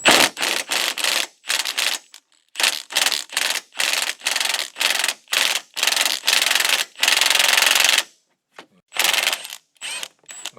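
A ratchet wrench loosens bolts during serpentine belt work on a 2009 Toyota Camry 2.4L, giving rapid clicking bursts in short repeated strokes with brief pauses, close and loud, then a longer steady run.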